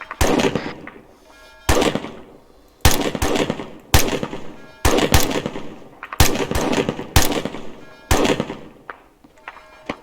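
Heavy gunfire in the military shooter Arma 3: loud, close bursts of shots repeat at a steady pace, each sharp volley trailing into a rumbling echo before the next.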